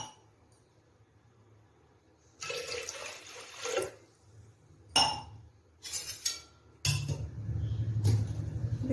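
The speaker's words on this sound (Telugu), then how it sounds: "ఇందులో ఒక 2 గ్లాసులు వాటర్" Water, about two glasses, is poured into a container of ground masala for buttermilk, giving close splashing and pouring bursts with glassy clinks between short quiet gaps.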